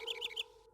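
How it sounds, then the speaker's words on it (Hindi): Cartoon bird in a kids' animation chirping three quick bright tweets, near and fairly soft, with no speech. "ये तो चिड़िया की आवाज है।"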